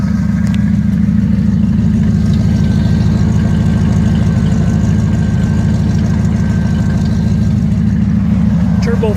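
A 1938 Chevrolet Master Deluxe with a Chevy engine and Turbo 350 transmission idles steadily up close, a deep continuous rumble with a faint whine from the power steering pump running underneath.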